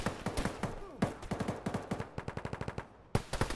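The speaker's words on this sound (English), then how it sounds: "Are we getting fired into above ground level?" Rapid bursts of automatic gunfire in a military combat video game, close and loud, with quick rhythmic volleys, a short pause, then another burst.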